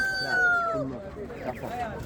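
A rooster crows at a poultry market in Ganja, Azerbaijan, its drawn-out call rising and falling over market background noise.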